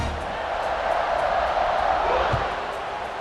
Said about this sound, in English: Kicking away, and this crowd is buzzing after that last score